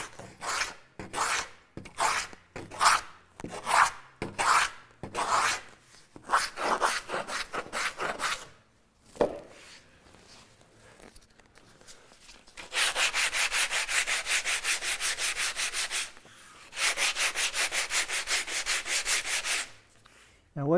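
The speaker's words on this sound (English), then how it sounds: "you can always use a 4-in-hand rasp like this" A four-in-hand rasp shapes the bevel on a wooden kayak deck panel edge, first in quick separate scraping strokes, then in long continuous rasping runs with a short pause between them. The sound is close and loud, with no talk.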